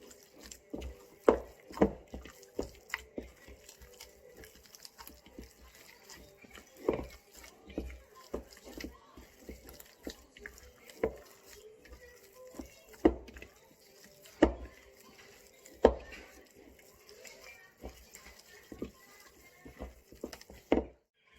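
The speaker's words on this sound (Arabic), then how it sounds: "on va bien pétrir la pâte." Brioche dough is kneaded by hand, giving irregular soft slaps and dull thumps against a work surface, repeated throughout with quiet pauses between them.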